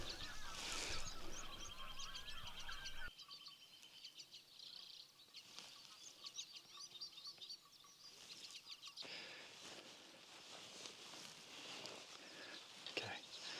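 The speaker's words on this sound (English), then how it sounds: "There's a couple of grey-lag goose." A couple of greylag geese give short honking calls from close by, a few scattered bursts over rustling outdoor background, with soft whispered talk nearby.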